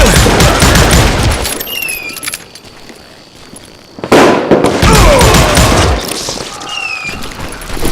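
Rapid volleys of gunshots in the Western shooter game Call of Juarez Gunslinger, loud crackling bursts that pause briefly mid-clip, then resume with faint whistling sounds overhead.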